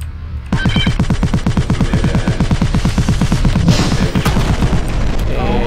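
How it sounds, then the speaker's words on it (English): A machine gun turret in the video game Armed to the Gears fires a long, steady rapid stream of shots, loud and close, continuing for over five seconds with a muffled blast partway through. "I'll just do a machine gun here on this one."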